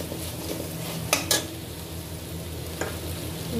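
Pasta sauce with oregano and chili flakes simmers in a pan, a soft steady sizzle with a couple of sharp utensil clinks against the pan partway through.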